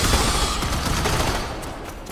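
Sustained gunfire from many weapons rattles without a break in Starship Troopers: Terran Command, a dense, loud volley that thins slightly toward the end, with no voices over it.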